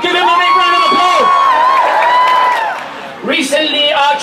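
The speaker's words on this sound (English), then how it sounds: "Give him a big round of applause" A large crowd at a London march for Gaza cheers loudly, with sustained whoops and shouting voices that dip briefly before rising again.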